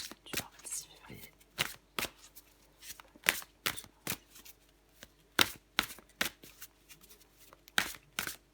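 Tarot cards are shuffled and drawn in crisp, close bursts of riffling and snapping, spaced irregularly while someone talks quietly over them.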